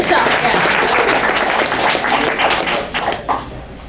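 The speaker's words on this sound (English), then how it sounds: "So all of you here, round of applause," A room full of audience members breaks into loud, sustained applause and clapping, steady for several seconds before thinning out into scattered claps near the end; no one speaks.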